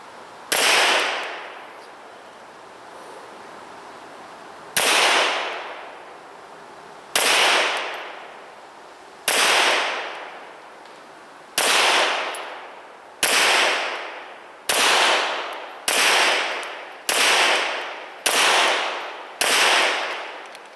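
Sharp outdoor reports from a 9mm M&P pistol firing 147 grain ammunition, about eleven loud single shots, each with a ringing decay, spaced slowly at first and then coming faster.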